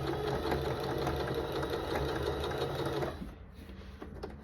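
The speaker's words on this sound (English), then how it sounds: "Then I'm going to start sewing that 1/4 inch seam." Sewing machine stitching a quarter-inch quilt seam from fabric scraps, a fast steady mechanical whirring hum for about three seconds before stopping abruptly, leaving a quieter tail.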